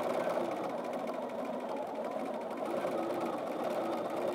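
A Bernina sewing machine runs continuously during free-motion quilting, a close, steady mechanical whirr of rapid stitches with no talking.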